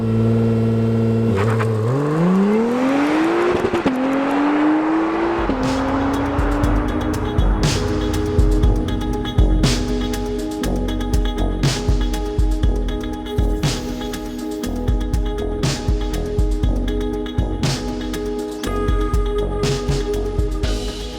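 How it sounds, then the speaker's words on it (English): An Acura NSX road car in track mode builds revs in a launch, its engine note climbing in loud stepped surges, then settling into a steady, close drone with rapid clicks and ticks over the top. "pop it into track mode, put my left foot on the brake, build up the revs"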